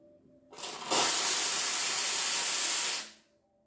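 A Rocket Appartamento espresso machine's steam wand opens with a click and blasts a loud, steady, close hiss of steam into milk for about two seconds before cutting off.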